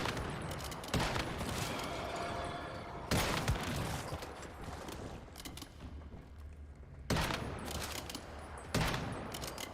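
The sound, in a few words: gunfire from Once Human video game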